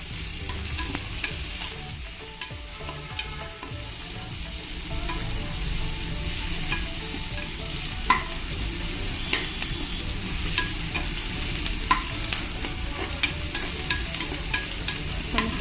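Onions for mutton biryani fry and sizzle in a pan as they are stirred, a steady close hiss with scattered scraping clicks of a spoon throughout, no voices.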